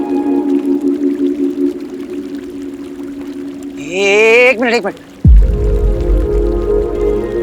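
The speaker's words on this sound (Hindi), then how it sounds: "मुझे पानी की आवाज आ रही है।" Water pours and splashes nearby, with a rising gurgling fill followed by a loud splash and scattered drips, while a voice speaks briefly over a steady hum.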